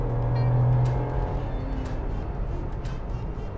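A Maruti Suzuki Alto K10 with an AGS automated gearbox accelerating hard, its engine tone rising and then dropping away as the gearbox shifts, heard from inside the car as a steady mid-level drone.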